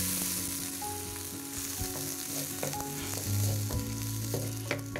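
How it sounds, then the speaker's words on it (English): Red wine is poured into a hot cast-iron spider of butter and finely chopped shallots; a steady loud sizzle and frying hiss runs throughout, with soft stirring scrapes and no talk. "Deglaze with red wine."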